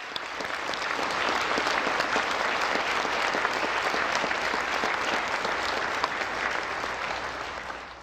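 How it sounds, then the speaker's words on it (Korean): Audience at the 54th National Prayer Breakfast in South Korea, 2022, gives a dense, steady round of applause that stays loud and continuous throughout before tapering slightly at the end. "같이 한번 뜨거운 박수로 마치겠습니다."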